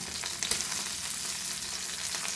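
Goan anchovies coated in rava frying in a shallow layer of oil, giving a steady, close sizzle with small crackles throughout and no talking.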